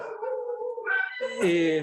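Dogs howling and whimpering in the background, drawn-out wavering tones that rise and shift in pitch, fairly clear and sustained without breaks.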